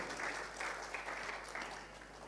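Church congregation clapping at a Sunday worship service, a steady wash of many hands for a couple of seconds, moderately near with no talk over it.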